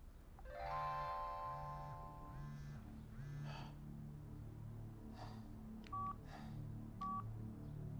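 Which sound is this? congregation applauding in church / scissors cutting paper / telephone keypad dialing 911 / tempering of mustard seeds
telephone keypad dialing 911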